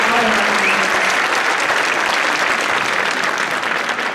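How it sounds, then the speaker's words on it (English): Sustained audience applause fills a school district choral concert hall, a dense steady wash of clapping hands holding at a loud, even level throughout. "So we give him a round of applause because he does so much, so much"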